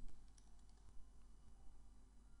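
Quiet typing on a computer keyboard, soft irregular key taps close by over faint room hiss.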